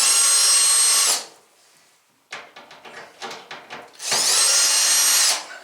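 A power drill whirs in two loud bursts of about a second each, driving out screws from a Samsung dryer door panel, with faint clicks and rattles of the screws and panel in the short gap between.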